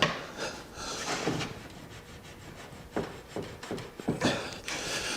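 A wooden mortise and tenon table being pulled apart: quiet scraping and rubbing of wood joints with intermittent knocks and creaks, close and faint, no talking.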